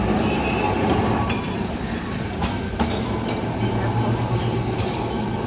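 A Kolkata tram rolls past at close range along a market street, its steady rumble and wheel clatter running for several seconds with faint street noise behind it.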